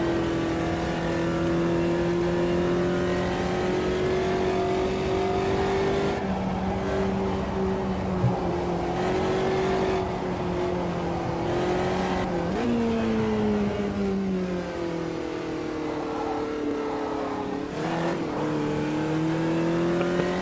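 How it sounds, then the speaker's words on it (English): A race car in Automobilista 2 droning at high revs from the cockpit, its engine pitch holding steady then dropping through a downshift and climbing again, with sharp gear changes near the end. "Just a little bit of a later downshift just to keep the car as stable as possible"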